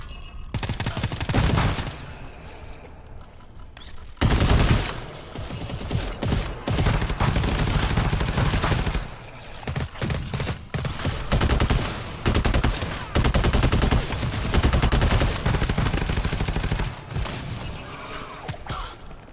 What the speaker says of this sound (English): this machine gun is fun